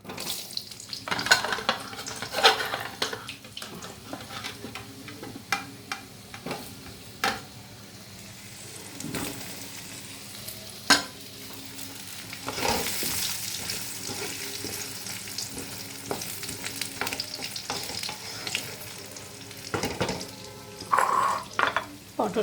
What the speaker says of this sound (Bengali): পটেটোগুলো এবার ফ্রাই করে নিই।